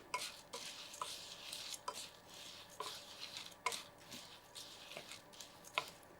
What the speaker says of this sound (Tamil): இதெல்லாம் நல்லா மிக்ஸ் பண்ணிடலாம்